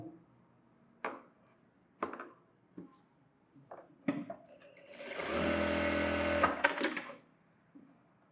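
A sewing machine stitches a saree-fabric blouse in one steady whirring run of about a second and a half. It is preceded by several sharp clicks and taps of handling at the table, with no talk.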